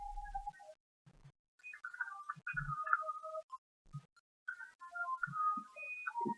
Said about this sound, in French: Désolé, c'était mon téléphone.